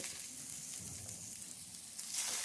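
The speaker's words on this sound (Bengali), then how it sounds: "বেগুনটা ভাজার সময় খেয়াল রাখতে হবে বেগুনটা যাতে ভেঙে না যায়" Eggplant slices fry in oil in a pan, giving a steady close sizzling hiss that swells slightly at the end.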